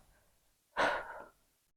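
A single forceful exhale during a resistance exercise, a short breathy burst lasting about half a second that tapers off, close and alone in an otherwise quiet room.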